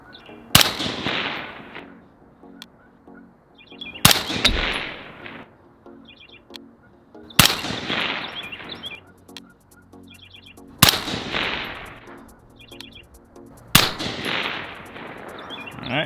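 A suppressed 224 Valkyrie AR-15 with a Palmetto State Armory upper and a Jebtech silencer fires from a sandbag rest. Five loud, separate shots come at a steady pace about three seconds apart, and each one ends in a decaying echo.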